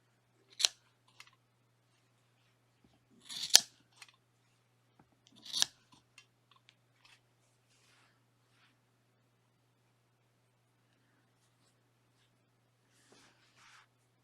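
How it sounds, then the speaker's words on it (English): Scissors trim yarn tassels on a pocket shawl: three crisp, close snips spaced a few seconds apart, followed by faint handling rustles in an otherwise quiet room. "I'm going to trim it that way."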